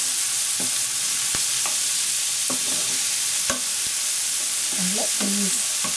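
Sweet corn, peppers and mushrooms sizzle in a hot pan under a constant loud frying hiss, with occasional scraping and knocking from stirring and a brief murmur of voice near the end.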